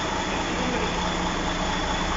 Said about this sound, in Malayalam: ഇതിപ്പോൾ ഈ വണ്ടി ഇപ്പോൾ ഇതുപോലെ എൻജിൻ പണി കഴിഞ്ഞ് സ്റ്റാർട്ടിങ്ങിലിട്ടിക്കാം.